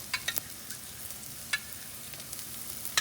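Ginger and curry leaves fry in a pan with a close, crackling sizzle, punctuated by sharp pops and spoon scrapes at irregular intervals.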